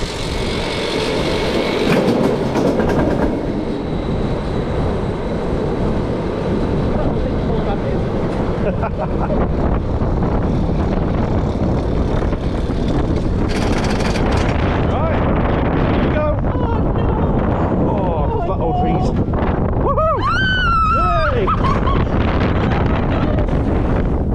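A ride on Mumbo Jumbo, a 2009 S&S Worldwide El Loco roller coaster at Flamingo Land Resort, roars with loud, steady wind buffeting and rattling track noise. Riders speak and whoop under it, with a sharp cry near the end.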